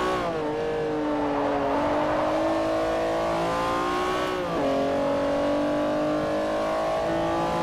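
A Honda NSX race car in Forza Motorsport 4 screams through a race, its engine note climbing steadily through the gears with a sharp upshift dip, loud and continuous with no talk.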